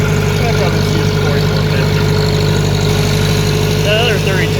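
A John Deere 3020 tractor engine idles steadily nearby, a loud, even low rumble with a constant throb, while faint voices and other sounds come and go over it.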